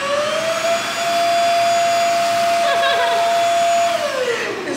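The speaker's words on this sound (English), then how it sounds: "This is the vacuum that I got." A cordless vacuum cleaner runs on its highest power mode, giving a steady, loud whirring roar with a constant high whine that holds throughout and dips slightly as it winds down at the end.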